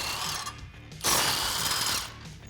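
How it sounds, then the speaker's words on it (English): Ratchet with a 21mm socket turning on the front bumper brackets of a Jeep Wrangler JL: a rapid clicking ratchet run, a brief pause, then a louder, brighter burst of clicking, close by. "I'm going to be using a 21mm socket to take off the front brackets as well as the tow hook here."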